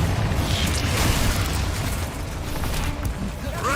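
Confringo fire spell explosions from the Hogwarts Legacy video game, a dense continuous roar of blasts and crackling bursts across the whole stretch, loud and steady with small dips, mixed with game effects.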